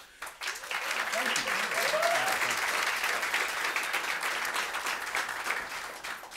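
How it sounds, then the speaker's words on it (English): Audience at a school board meeting applauds steadily for several seconds after accredited elementary schools are named, a dense, moderately distant clapping with faint voices underneath. "thank you for that applause"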